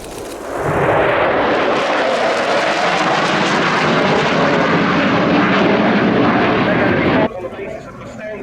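A two-seat F-15 fighter jet roars past at an air show, a loud broadband jet rush that swells in within the first second, holds steady and then cuts off sharply near the end, with a voice talking over it.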